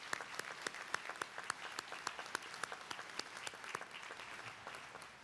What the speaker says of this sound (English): join me in applauding all of our special guests and acknowledgement